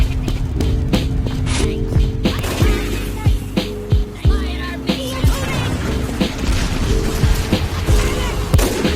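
Sniper rifle gunfire in the video game Team Fortress 2, with repeated sharp shots and booms over game noise, spaced irregularly and loud throughout.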